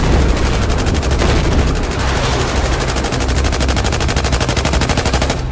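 Sustained automatic gunfire in the Battlefield video game, loud rapid bursts of rattling shots continuing almost without pause.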